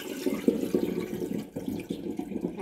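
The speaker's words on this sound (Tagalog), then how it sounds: "Tapos ay tanggalin natin ng tubig. Dahan-dahan lang at baka masama yung bigas." Rinse water being poured slowly off washed jasmine rice, a close, loud splashing trickle that runs in uneven bursts with a brief break partway through.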